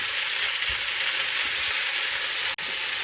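Meat and onion sear in a pan for a homemade meat and potato pie, giving a steady close hiss of frying fat with faint crackles and one sharp tick near the end.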